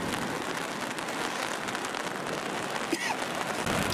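Steady rain patters close by on an umbrella overhead, a dense, even hiss of drops with a few brief sounds near the end, at Geiranger, Norway.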